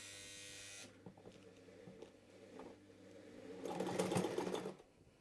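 A sewing machine stitches slowly along the elastic edge of a fabric winch cover for a sailboat, giving a faint, rapid mechanical buzz of needle strokes that swells toward the end, with no talk.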